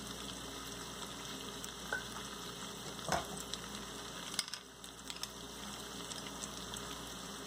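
Tomatoes tossed into a hot frying pan for restaurant-style butter chicken give a steady, close sizzle and frying hiss, with a brief stir or clatter partway through.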